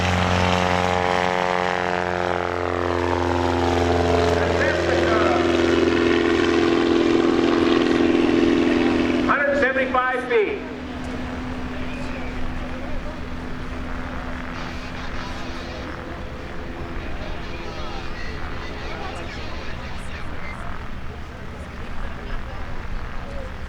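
Propeller airplanes, including a Cessna 172, taking off at the Oshkosh 2022 STOL competition: a loud engine drone rises and sweeps past, then fades to a more distant hum, with an announcer talking over it.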